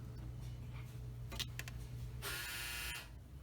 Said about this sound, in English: That hideous buzzing sound is my dryer in the laundry room